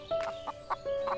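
A chicken clucks in the farming video game Everdream Valley, a few short, close clucks spaced apart over a steady synthetic background tone, with no talking.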